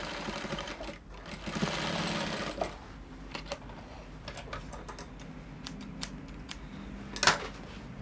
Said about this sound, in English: then you are going to top stitch